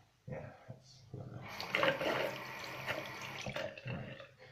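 Tap water running into a sink during shaving, a steady close splashing flow that starts abruptly and continues, with a voice briefly heard.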